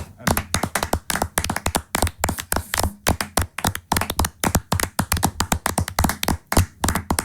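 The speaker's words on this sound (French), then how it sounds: "J'ai envie de l'applaudir une dernière fois." Hand clapping on a French radio show, a dense run of sharp rhythmic claps from a few people, close and loud, continuing for several seconds with voices faintly underneath.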